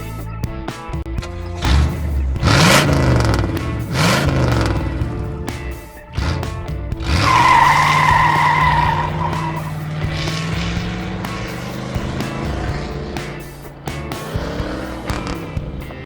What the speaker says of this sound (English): it's Robin driving the Batmobile